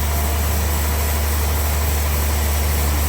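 A sawmill saw machine engine runs continuously at steady power while cutting giant timber, a loud, even low drone with a constant mechanical hum and no pauses.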